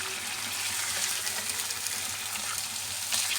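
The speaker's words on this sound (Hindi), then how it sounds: "ये जो गरम मसाला साबुत है वो सारा इसमें डाल देंगे और साथ ही इसमें गोश्त डाल के इसको हम भूनेंगे" Mutton browns in a pot with whole garam masala, giving a constant hissing sizzle at moderate volume with no talk.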